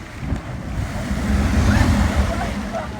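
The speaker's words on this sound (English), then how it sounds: "here come the bigger waves" Ocean waves crashing on the shore at Positano, a swelling rumble that builds toward the middle and eases off, heard close with wind noise on the microphone.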